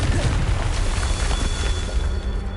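Booming spell blast from the Confringo fire curse in Hogwarts Legacy, a dense low rumble sustained for a couple of seconds at steady loudness with game ambience behind it.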